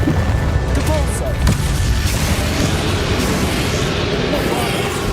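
A Depulso force spell cast in Hogwarts Legacy during a fight, producing a loud, booming magical blast with a rumbling burst near the start, under a dense, continuous game soundscape.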